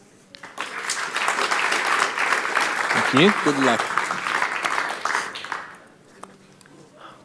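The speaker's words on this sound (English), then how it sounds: "A huge applause for Denis." An audience at a tech conference applauds a speaker, steady clapping that swells for several seconds and then thins out, with brief spoken thanks over it.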